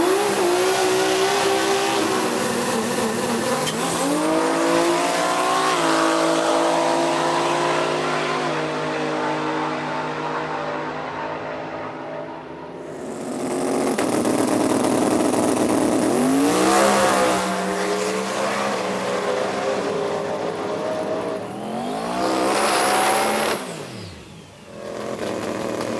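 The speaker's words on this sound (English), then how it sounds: "That last pass, you look like you spun a little bit there." A twin-turbo Ford Maverick makes a drag racing pass, its engine revving hard and climbing through gears with loud rising and falling whines. The tires spin, and the car pulls close and then fades away.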